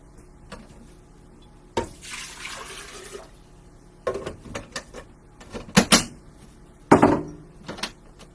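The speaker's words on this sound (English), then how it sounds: "I'm going to put a cup and a half of water" Water pours into a cup for making seamoss in a home kitchen, coming in a few short splashing bursts with quiet pauses between them and clattering handling noises around them.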